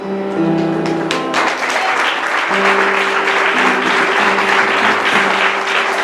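Church congregation clapping hands, a dense, loud, continuous round of applause from many people that swells and holds steady, with sustained tones from music or voices underneath.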